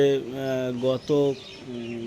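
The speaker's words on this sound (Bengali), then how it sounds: "কিন্তু এই যে পায়রা কটা বাইরে দেখতে পাচ্ছেন।" Pigeons outside give soft, throaty cooing calls in a few drawn-out bursts, close and fairly clear, with brief pauses between phrases.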